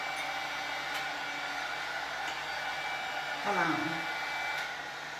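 A glass candle jar is warmed by a hot-air blower, a steady close whoosh that swells briefly partway through, with a short spoken remark over it.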